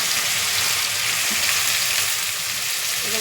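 Onions with garam masala and garlic frying in a pan for a home-style mutton curry, giving a loud, dense, continuous sizzle close by with faint stirring and no talk.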